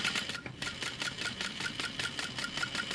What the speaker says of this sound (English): I'm just going to sew right around that outer edge